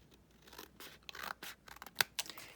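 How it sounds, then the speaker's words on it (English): Scissors snip off a flap of paper card during craft card-making, giving a few short crisp cuts and rustles, close and fairly quiet with no talking. "where the stitching stops, you're going to cut that off"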